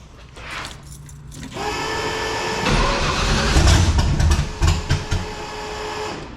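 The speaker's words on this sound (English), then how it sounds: "This is probably the most blown out exhaust header gasket" An engine starts and runs with a badly blown exhaust header gasket, a cranking whir turning into a loud, rough idle with rapid ticking puffs and uneven revs close by.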